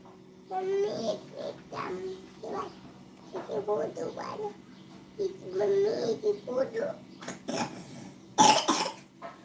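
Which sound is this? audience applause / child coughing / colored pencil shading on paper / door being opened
child coughing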